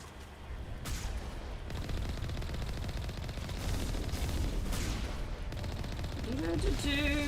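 Gunfire from shooting enemies in the Mass Effect video game, a dense continuous rattle of rapid shots with a muffled voice underneath and a rising electronic tone near the end.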